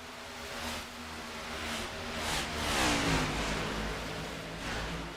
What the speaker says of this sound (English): That's the 15 car making the very powerful pass on by.